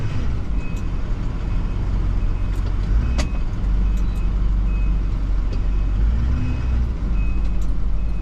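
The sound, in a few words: cars driving around a plow truck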